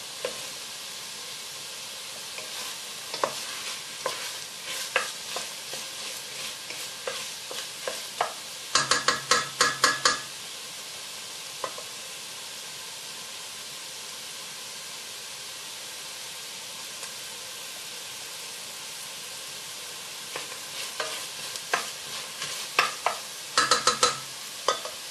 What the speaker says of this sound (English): we got the onions more or less sweated through now